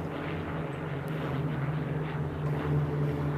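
An MD312 Flamant aircraft flies at the Paris Air Show, giving a steady, droning propeller-engine roar that holds at an even loudness throughout with no voices.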